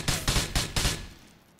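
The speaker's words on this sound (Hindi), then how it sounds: "अब छोटी गन निकाल लेता हूँ क्योंकि पास में ही है फाइट" Four quick, loud gunshots from a small handgun in GTA 4, fired in a rapid, even burst with booming low ends, then a short echoing decay.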